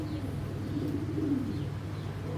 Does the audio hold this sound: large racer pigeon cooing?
yes